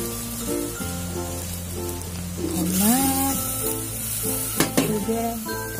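Onions sizzle in a pan after tomato, scallions and celery are added, giving a steady crackling fry with brief stirring scrapes beneath background music.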